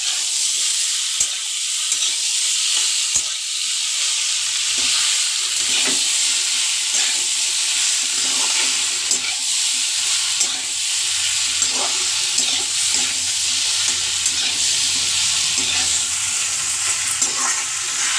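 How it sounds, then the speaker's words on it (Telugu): Potatoes stirred and fried in a pan for aloo dum, a continuous sizzle and hiss with occasional spoon clinks and scrapes, steady and close for a long stretch without speech. "మా అమ్మ దుంపలు కలుపుతుంది"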